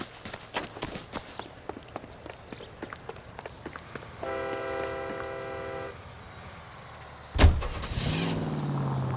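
A car driven in the video game L.A. Noire during a chase, with footstep-like ticks and engine sounds, a steady tonal hum in the middle, then a sharp bang followed by louder engine noise.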